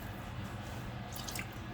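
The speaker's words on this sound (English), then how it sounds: "I poured the broth in there to try to loosen it up some" Broth poured into a pan on the stove: a faint, steady liquid trickle with soft dripping and squishing, low and continuous throughout.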